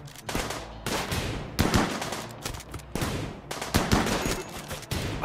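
Rapid bursts of gunfire in RimWorld, a steady crackle of repeated shots with brief pauses between volleys, loud and close throughout with no talking.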